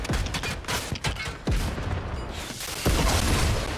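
Fortnite gunfire, several sharp shots in quick irregular bursts with impacts, loud and close.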